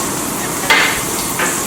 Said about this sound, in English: as that's frying on a very, very high heat